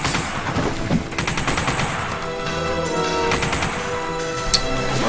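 Sustained automatic gunfire from The Punisher video game as enemies are mowed down, dense rapid bursts running continuously and loud throughout with crashing impacts mixed in.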